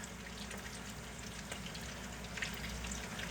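Croquettes and sausage sear in a hot pan, a steady, dense frying sizzle with small crackles throughout, close and moderately quiet, with no voices.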